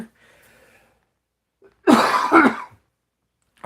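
A person coughs and clears their throat in a short, close, loud burst of two rough hacks after a faint murmur, then goes quiet.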